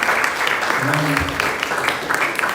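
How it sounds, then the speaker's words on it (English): Steady clapping from a crowd at a temple anniversary celebration fills the space, continuous and fairly loud, with a brief voice or tone sounding faintly underneath. "Please one round of applause for all the decoration committee members."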